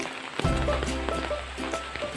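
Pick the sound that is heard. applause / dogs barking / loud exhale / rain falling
rain falling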